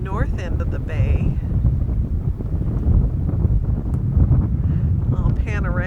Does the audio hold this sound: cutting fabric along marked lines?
no